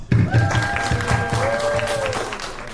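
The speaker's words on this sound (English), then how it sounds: "let's give them a round of applause." An audience breaks into applause, clapping steadily at close range with some murmuring voices mixed in.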